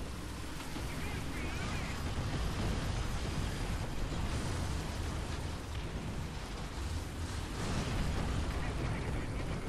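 Artillery shells bursting in the War Thunder tank game, a dense, continuous roar of heavy booms and rumbling blasts that stays loud and steady throughout, with no clear pauses between impacts.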